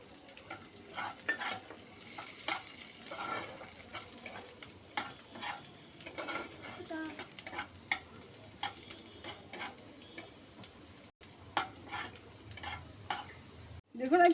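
Chopped ginger and garlic frying in oil for chicken chow mein, stirred with a utensil, a soft sizzle under frequent sharp scraping clicks and taps against the pan, with a louder knock at the end.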